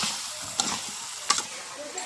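Chicken curry with potatoes is stirred in a pan: a soft, steady sizzle and hiss of frying, broken by a few light clicks of a utensil against the pot.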